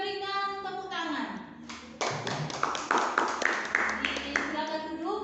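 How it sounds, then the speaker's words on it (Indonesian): A group claps at a church or Bible-study gathering, scattered individual claps tapping out over a few seconds, with talking and tonal voices before and after. "Kita berikan tepuk tangan."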